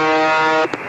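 A loud, steady electronic buzzing tone with rich harmonics from the UVB-76 shortwave radio station, known as The Buzzer, cutting off abruptly near the end followed by a brief blip and low hiss.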